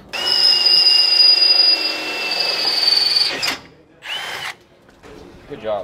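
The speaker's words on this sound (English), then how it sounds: "Made our own drill press." A homemade drill press drills steadily with a loud, continuous high-pitched whine and grinding for about three seconds, then spins down; a short second burst follows, with brief talk afterward.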